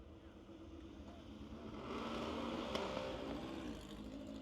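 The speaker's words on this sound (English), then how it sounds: "Santa Monica base 58 Corvette, 468 cubic inches. That thing sounds pretty healthy." A 1958 Corvette drag car with a 468 cubic inch engine rumbles at a distance, swelling louder midway as it revs and passes, then easing off, faint against the open-air background.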